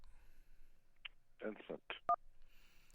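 Telephone dialing tones on a radio call-in show as a caller is put on the line, a short burst of beeping DTMF-style tones amid studio noise, with brief talk around them.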